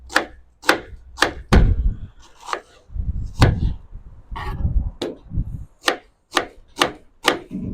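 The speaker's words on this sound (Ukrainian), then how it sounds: "Для початку ми наріжемо цибульку з моркою." Knife chopping onion and carrot on a wooden board, a run of sharp, close thuds with a few quicker bursts in between, loud and alone without talk.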